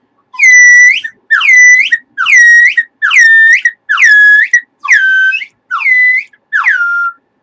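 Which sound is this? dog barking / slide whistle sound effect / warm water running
slide whistle sound effect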